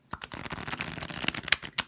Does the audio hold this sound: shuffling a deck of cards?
yes